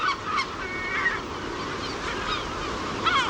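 Gull chicks on the Cíes Islands coast calling near the nest, a series of short high squealing cries repeated every half second or so over steady wind or surf noise, fairly close.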